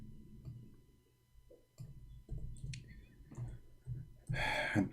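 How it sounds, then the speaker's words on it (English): Keyboard typing at a computer, rendered as a sparse run of soft, close clicks with short pauses between bursts and a louder clatter near the end. "I'm typing in English again."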